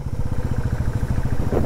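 A Bullet motorcycle climbs uphill, its engine giving a loud, close, steady low thumping pulse.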